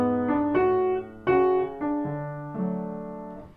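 A piano melody from a jazz piece, with some notes struck loudly and others played softly. A handful of sustained notes ring out one after another and decay cleanly, played alone with no talking.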